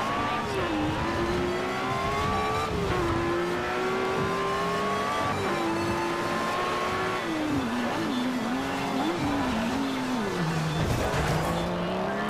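A car in Forza Horizon is driven from the cockpit view, its engine a loud steady drone that climbs through gears and drops with each shift, with tire squeal near the end and no speech.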